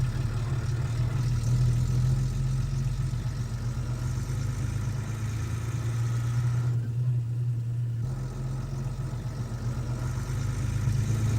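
A lorry engine runs steadily while towing a V2 rocket fuel container, giving a continuous low rumble with a brief dip in the higher noise midway.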